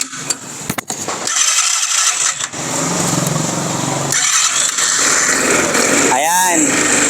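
A Big Bull V2 300cc ATV engine cranks and catches, then idles with a steady buzzing rumble close by, with people talking over it.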